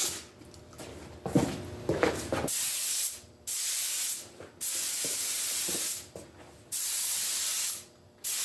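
An aerosol can lays down a coat of yellow tint in a series of hissing bursts, each about a second long with short pauses between, close up; an earlier stretch carries softer rubbing and handling noise.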